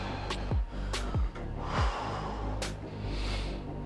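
Heavy breathing during a squat workout, with sharp forceful exhales and snorting breaths roughly every half second to second, close and loud against a low background hum, no speech.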